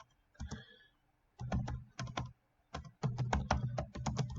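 Someone types on a computer keyboard in an office setting, with close, crisp clusters of key clicks in uneven bursts separated by brief pauses, and no talking.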